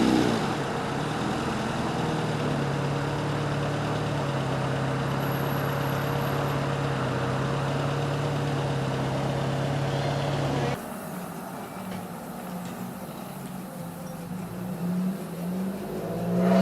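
A 1977 Leyland Mini Clubman 1100 with a 1.3-litre engine runs at a classic car show, giving a steady low engine drone and broad noise that drops suddenly to a quieter idle partway through.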